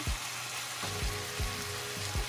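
Butter melts and sizzles with chicken in a pan for spicy chicken adobo, a steady close frying hiss broken by a few soft low thumps at regular intervals.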